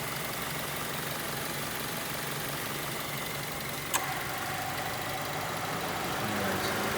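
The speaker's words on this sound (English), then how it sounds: "As you guys can tell, the engine runs nice and smooth." A 2007 Mazda 6i with a 2.3 liter engine idles steadily and smoothly, a continuous even hum heard close with no talking, broken only by one brief click near the middle.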